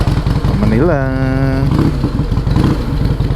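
A Harley-Davidson motorcycle engine fires up and settles into a loud, close, lumpy idle with a rapid rhythmic throb, and a voice speaks briefly as it starts.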